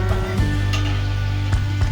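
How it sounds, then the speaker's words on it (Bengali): Onion, garlic and tomato frying in hot oil in a pan for a fish curry, a close, steady sizzle under a constant low hum, broken by a few brief stirring clatters. "দেখুন পেঁয়াজ রসুন আর টমেটোটা প্রায় ভাজা ভাজা হয়ে এসেছে"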